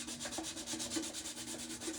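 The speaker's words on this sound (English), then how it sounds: "I'm just sanding it just to give the paint something to stick to." Sandpaper rubs back and forth over a Dollar Tree mailbox before painting, a soft, close rasping in quick, even strokes roughly every quarter second.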